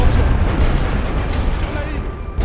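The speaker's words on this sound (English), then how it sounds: "Do a rolling barrage when we get near it." Rolling artillery barrage on a Great War Western Front battlefield, a continuous deep rumble of overlapping shell blasts that churns steadily and loudly throughout.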